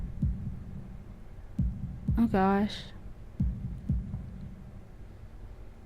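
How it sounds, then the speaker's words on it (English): Heartbeat sound effect from the video game Katawa Shoujo, a slow series of deep, muffled thumps at a regular pace, with a short voice exclamation in the middle. "holding my breath in an attempt to hear my heartbeat"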